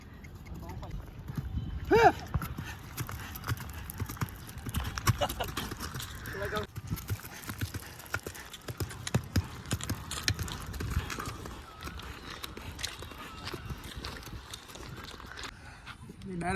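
A mare's hooves clip-clop in an uneven series of close, sharp thuds as she moves about, while people talk nearby throughout.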